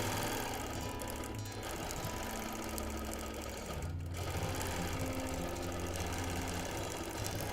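A sewing machine quilts with charcoal thread in a steady, close, fast mechanical whir that runs on without a break.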